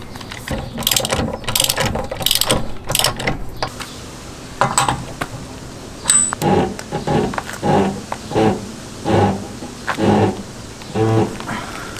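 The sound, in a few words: ratchet tightening an axle nut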